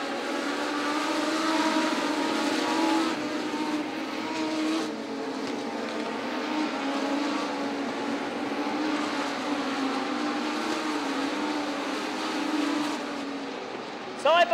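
Speedway race cars howl at full throttle around a Sydney track, a dense, continuous engine roar that rises and falls as they run side by side, loud and close throughout.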